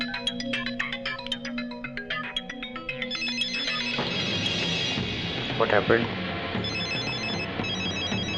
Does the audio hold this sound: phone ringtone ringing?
yes